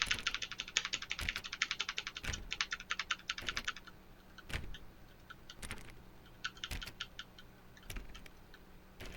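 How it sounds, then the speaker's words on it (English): Rapid bursts of button clicks in The Stanley Parable, a dense run of sharp taps followed by sparser clicking after a pause, close and dry with no talking. "Perhaps 50 clicks will do it."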